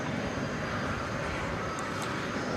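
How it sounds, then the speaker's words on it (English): An Airbus A300 on the runway at Dallas Fort Worth airport produces a broad, steady jet roar that holds at an even level throughout, distant and continuous with no talking. "We have an Airbus A300"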